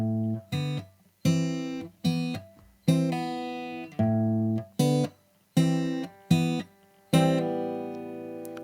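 Acoustic guitar picked slowly in a repeating pinch pattern, clear separated plucked notes with a brief pull-off, ringing out alone with short gaps between.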